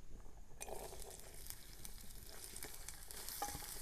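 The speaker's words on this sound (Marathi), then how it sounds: "तेलही थोडा तापून द्यायचा आणि मग आपण त्याच्यात कांदा टाकू" Onion sizzles and crackles steadily in hot oil in a home kitchen. The frying is faint and continuous, with occasional stirring clicks.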